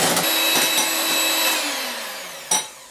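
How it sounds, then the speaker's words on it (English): Electric whisk whipping egg whites with a pinch of salt to soft peaks for macarons, a close, loud motor whir that gradually winds down, with a short clatter near the end. "in a separate bowl, whisk the egg whites with a pinch of salt to soft peaks."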